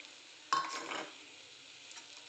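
Chili powder, a pinch of turmeric and coriander get stirred into a frying pan of patodi bhaji, making a short scraping stir of about half a second that fades into a faint, quiet sizzle.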